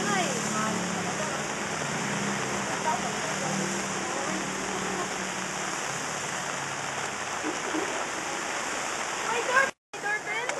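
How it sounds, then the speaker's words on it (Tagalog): Heavy rain pours in a steady, dense, loud hiss that fills the whole stretch, with faint voices underneath and a brief dropout near the end. "Ang lakas ng ulan."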